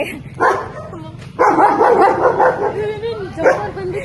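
A dog barks repeatedly nearby in a residential building, sharp yaps and whimpering yelps coming in bursts, mixed with people talking.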